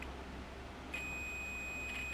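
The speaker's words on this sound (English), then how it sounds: "You should hear a beep, because unless this wire is broken underneath the outer sleeve, the signal should go from one probe to the other." A multimeter continuity tester emits a single steady high-pitched beep as its probes bridge an intact wire, starting about a second in and holding to the end over faint background hiss.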